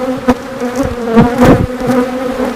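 A honeybee colony that swarmed that morning buzzing around hive frames, a steady droning hum with individual bees passing close by in louder swells.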